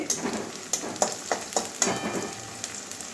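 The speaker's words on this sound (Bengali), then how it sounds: "পেঁয়াজটা অনেকটা ভাজা হয়ে গেছে এবারে কাঁচা লঙ্কা দিয়ে দিচ্ছি" Onions and green chillies fry in a pan with a light, crackling sizzle. Sharp spatter pops and stirring taps come through close up, with no speech.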